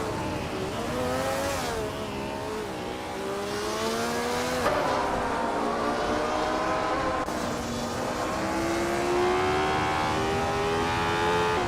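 Ferrari 158 race cars in a racing video game roar around a track with high-speed corners and long straights, a continuous loud engine whine that rises and falls in pitch as the cars accelerate and shift, with no talk.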